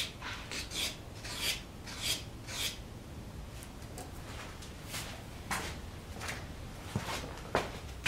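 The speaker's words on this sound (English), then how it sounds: "I'll clean everything up with more sandpaper." Repeated rasping strokes of fine sandpaper, up to 1,000 grit, on a wooden carving knife, about a dozen scratchy passes in an uneven rhythm, close and fairly quiet.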